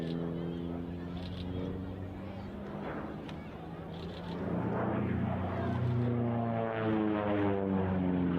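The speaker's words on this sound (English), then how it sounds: "Pratt & Whitney double wasp radial engine is really wound up in a dive" A 2,300-horsepower Pratt & Whitney Double Wasp radial aircraft engine drones, then swells into a louder roar as the plane dives, with a voice talking over the start.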